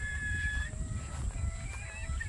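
Free-range farm chickens cluck and call in short, faint bursts over a steady low outdoor rumble, with no talking.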